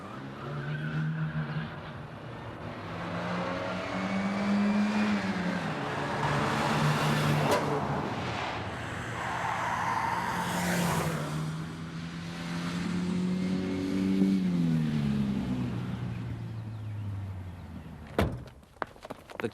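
A stolen Renault speeds away with engine revving and tyres skidding, pitch climbing and falling through gear changes, close and loud throughout, then a short sharp knock near the end.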